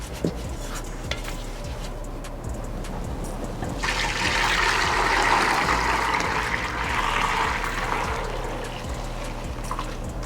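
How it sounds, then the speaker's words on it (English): Homemade chicken stock pours through a fine mesh strainer, a steady splashing stream that starts a few seconds in, runs for about four seconds, then tapers off over low background hum. "Now we'll pour what's in this container through the fine mesh strainer as well."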